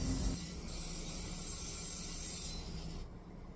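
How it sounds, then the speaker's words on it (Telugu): Pipe ground with a power grinder before welding, a steady abrasive rasp running continuously near the mic, easing off at the end. "అందుకని గ్రైండింగ్ అయితే చేస్తున్నాను."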